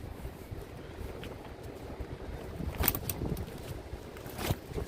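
Wind blows on a rainy day by an empty Coney Island in Brooklyn, New York. It makes a steady low rumble against the microphone, with a few sharper gusty bursts near the end and no talking.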